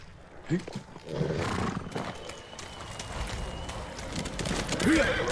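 A horse gallops through a forest in the video game Ghost of Tsushima, steady hoofbeats under a continuous rush of ambient noise, with a brief whinny-like snort and someone talking over it.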